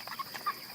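A young free-range chicken makes a couple of quick clucks, close and faint, over a thin high background hum.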